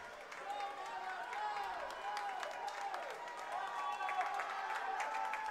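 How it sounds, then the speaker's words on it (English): Crowd applause and cheering at a short track speedway race, a sustained ovation under a commentator's continuous talk. "He's getting the biggest ovation of the day so far."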